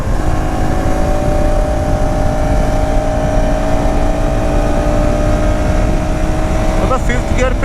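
A KTM Duke 250 motorcycle cruises in fifth gear with a steady, loud engine drone and heavy wind rush, the pitch holding nearly constant with a faint rise near the end.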